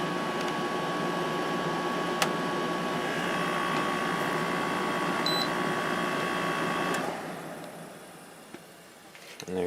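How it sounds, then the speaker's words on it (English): A 2014 GE 6050 BTU window air conditioner running with a steady whirring hum and faint tonal whine, then winding down and fading near the end. "That is the 6050 BTU GE air conditioner from 2014."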